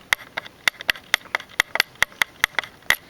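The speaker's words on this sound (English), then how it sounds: "Because that sound is just a tripod." A camera tripod gives off a steady run of sharp, light clicking taps, roughly four per second, close and fairly quiet, with no talking.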